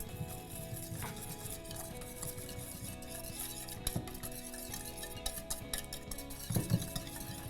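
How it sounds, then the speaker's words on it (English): Vinaigrette dressing whisked in a bowl: a steady run of light clinks and scraping strokes, close and fairly quiet, with a few sharper taps near the end and no talking. "I'm gonna whisk this up and then we're gonna put it to the side."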